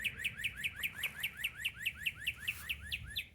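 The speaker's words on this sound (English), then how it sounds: "Look at the little birds." Small birds chirp outdoors in a quick, steady series of bright, repeated tweets, about four per second, fairly close over a low background rumble.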